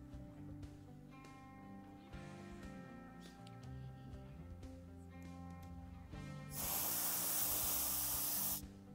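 Close, steady hiss of an aerosol spray applying dusty pink, flesh-colored paint to a whitetail deer nose repair, lasting about two seconds after a quiet stretch, with no talking.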